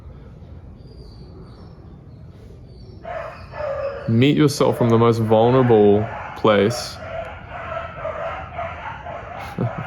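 Dogs barking nearby, a burst of several harsh, rapid barks in the middle with a last short bark after, heard alongside a person's voice over quiet background.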